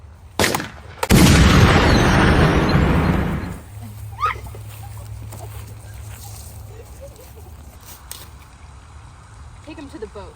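A single loud gunshot from a staged duel reenactment cracks out, followed by a long rumbling echo that fades, leaving a quiet outdoor background with faint distant sounds.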